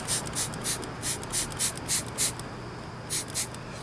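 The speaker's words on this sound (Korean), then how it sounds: "이런 스프레이로 물비누로 이렇게 치우시면 돼요." Repeated short bursts from a spray bottle mist soapy water onto a scooter tire to locate a puncture, about a dozen quick hissing squirts, close up, in two rapid runs with a brief pause between, no talking.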